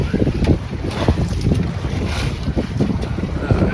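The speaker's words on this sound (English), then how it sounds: "now I'm back sailing again" A sailboat under way with its jib up on a Kentucky lake: steady wind buffeting the microphone and water washing along the hull, loud and close, with no talking.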